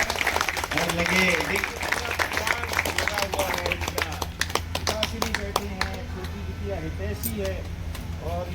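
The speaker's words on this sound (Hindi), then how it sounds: "एक बार जोरदार ताली से कर्तव्य ध्यान से इनका स्वागत" Loud, dense clapping from a gathered crowd welcoming a guest at an event, continuous applause with a voice speaking over it and fading toward the end.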